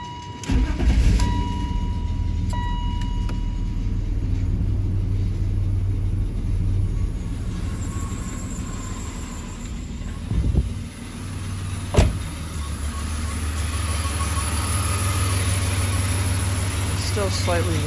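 A BMW engine running at idle after a new fuel filter, spark plugs and oil, a steady low rumble with a slight misfire, a few louder knocks, and a voice talking over it.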